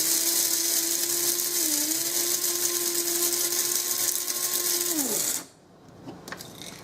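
A small electric grinder coarsely grinding black pepper, a loud steady high motor whine with a slight dip in pitch partway through, then spinning down abruptly and cutting off, followed by faint clicks and handling.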